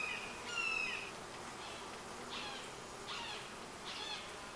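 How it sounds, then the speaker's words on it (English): Honeybees buzz inside an open hive as the comb is inspected, a faint, continuous hum with a few closer buzzing passes rising and fading. "A lot of bees."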